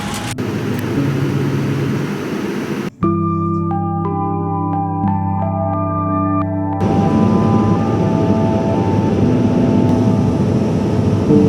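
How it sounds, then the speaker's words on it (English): Steady broadband cabin roar inside a passenger airplane heading home to the US, loud and continuous, briefly interrupted by a stretch of tonal music or chime-like sound in the middle before the engine and air noise returns. "I'm on the plane, I have a seat."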